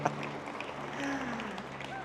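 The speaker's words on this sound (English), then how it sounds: "I appreciate the applause" An audience at a welcome ceremony gives a soft, distant round of applause that stays fairly even throughout, with faint murmuring and tonal background sounds mixed in.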